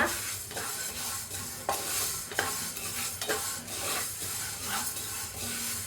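Fenugreek seeds dry-roasting in a pan for sambar powder are stirred with steady, repeated scraping strokes over a soft sizzle. The sound is close and continuous, with no talking.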